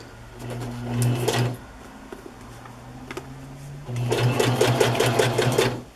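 A sewing machine stitches pieces of a fabric collage onto paper in two bursts of quick, humming stitching, with a quieter pause between them.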